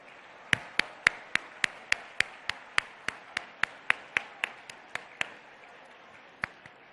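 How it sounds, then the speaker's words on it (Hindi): Sparse claps at an Iftar event welcoming the Chief Minister, about twenty sharp evenly spaced hand claps over several seconds, fairly near against a quiet hum, with no talk. "खड़े होकर हमारे मुअज़्ज़ज़ वज़ीर आला का इस्तक़बाल करें तालियों की गूंज में"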